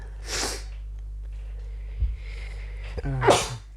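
Two sneezes, a softer one near the start and a louder, sharper one near the end, separated by a quiet stretch with a faint sniff.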